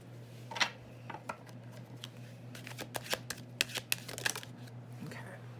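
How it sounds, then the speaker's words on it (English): Tarot cards are shuffled and drawn close by at a quiet level, with crisp riffling and snapping card sounds building to a busy flurry, over a low steady hum. "Let's get 3 more cards for you, Cap."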